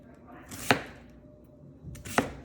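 Two crisp knife chops through cabbage on a cutting board, evenly spaced about a second and a half apart, close and clear against a quiet kitchen background.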